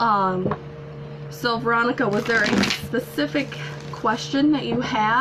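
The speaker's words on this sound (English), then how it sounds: "I'm currently shuffling the cards for you" Tarot cards being shuffled by hand, a crisp riffling and sliding texture running continuously beneath someone speaking throughout.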